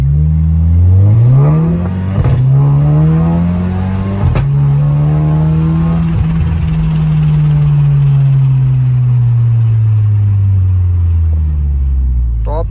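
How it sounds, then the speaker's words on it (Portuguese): A lowered 2021 Volkswagen Tiguan R-Line with a catback exhaust revs hard close by, engine pitch climbing then holding and slowly falling in a loud sustained roar with a couple of sharp pops. "vou colocar um bônus aqui para vocês escutarem o barulho do catback do carro"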